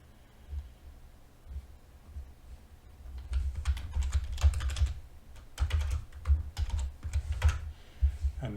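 Typing on a computer keyboard while entering a name in Blender software, a run of quick, fairly close key clicks in bursts with short pauses, alone without talk.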